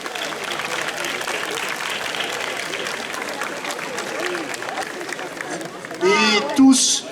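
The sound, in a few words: audience applause for the volunteers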